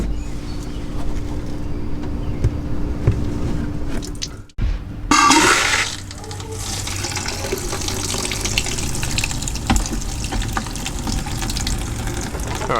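Water from a hose connected to the city water line gushes and splashes steadily through a pop-up camper's holding tank to flush out antifreeze. A brief click and pause come partway through, then a loud rush that settles into a constant flow.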